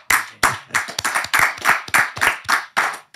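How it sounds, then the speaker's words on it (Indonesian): Studio audience applause during an Indonesian talk show, a close, crisp run of individual hand claps in a steady, fairly even rhythm, with no talking over it. "Tepuk tangan buat"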